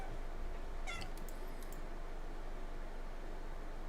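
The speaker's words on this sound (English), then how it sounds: "I don't know if you can hear that cat" A cat gives one short meow against a constant background hiss, followed by a few faint high chirps.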